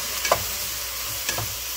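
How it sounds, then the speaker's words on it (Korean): Vegetables for turkey stuffing fry in butter over high heat with a steady close sizzle, broken by two brief scraping clinks as they are stirred. "센 불에서 다 숨이 죽을 때까지 한번 볶고"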